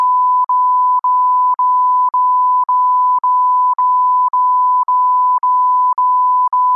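Censor bleeps: a steady pure tone sounds in twelve short, evenly spaced beeps, about two per second, loud and clean with silence between them.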